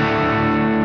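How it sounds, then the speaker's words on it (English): Distorted electric guitar, a Squier Contemporary Active Starcaster on its neck pickup, holding a sustained, rich chord with warm, clear tone, loud and steady throughout the short moment. "even with some distortion, that neck retains a lot of its clean and clarity."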